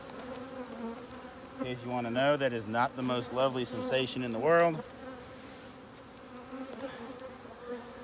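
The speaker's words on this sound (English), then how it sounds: "Got another bee in my pants." Honey bees buzz close by during a spring hive inspection, a steady insect drone under a voice that talks for a few seconds in the middle.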